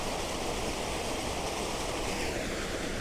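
Rushing water of a waterfall at Tokul Creek, Washington, a steady full-band roar that holds constant and loud throughout with no voices.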